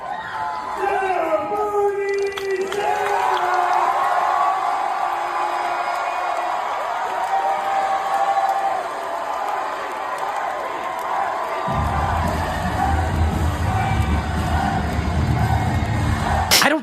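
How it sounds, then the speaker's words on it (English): A large political rally crowd roars and cheers as Bernie walks on stage, a sustained dense wall of shouting and whooping with applause mixed in, loud and continuous throughout. "Take a look at this crowd when Bernie walked on stage."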